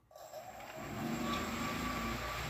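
Steady whirring hum of a Bugs 2SE drone's brushless motors with a high-pitched whine, spinning up quickly from silence and holding at a constant, fairly close drone.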